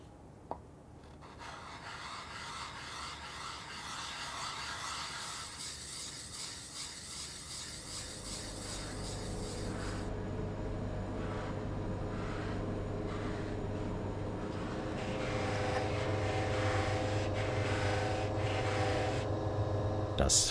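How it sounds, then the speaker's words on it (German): Oxidation being scraped by hand off the metal flange of a loudspeaker, a continuous close rasping and rubbing that grows louder and rougher in its second half. "Im ersten Schritt schabe ich sie ab und später wird sie dann nochmal weggeschliffen"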